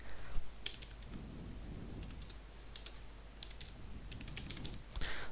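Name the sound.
typing on a computer keyboard and pressing Enter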